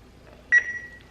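A ThermoWorks timer gives a single short electronic beep while it is being set, a close, clean tone that lingers briefly against a quiet kitchen background.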